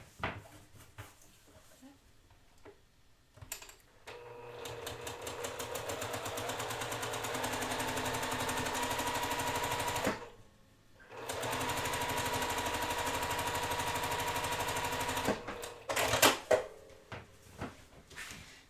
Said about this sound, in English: now I'm going to sew on that edge